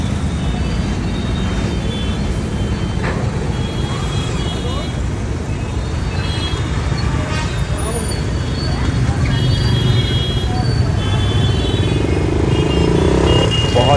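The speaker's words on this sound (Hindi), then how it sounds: "बहुत ज़्यादा ट्रैफिक है, बहुत ज़्यादा।" Heavy road traffic in Dehradun during the Shravan month, with a steady dense roar of cars, motorcycles and buses, engines and clatter close by, and someone talking over it.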